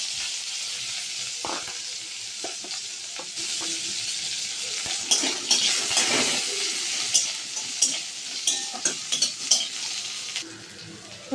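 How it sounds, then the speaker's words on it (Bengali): Chopped onion and garlic frying in a pan after whole cumin, a continuous hissing sizzle that swells midway, with clinks of a utensil against the pan and a burst of stirring scrapes near the end. "এবার পেঁয়াজ রসুন কুচিটা দিয়ে দিলাম।"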